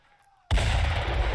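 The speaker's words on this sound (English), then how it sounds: "So we're dropping artillery on them in preparation for an assault." Artillery barrage from a 105 mm gun in the tactical war game Burden of Command: quiet, then a sudden loud blast that rolls into a sustained heavy rumble of explosions filling the rest of the moment.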